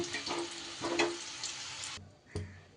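Boiled potatoes frying in oil in a pan, a bright crackling sizzle with stirring scrapes, close and fairly loud, which drops off suddenly partway through before a single clunk.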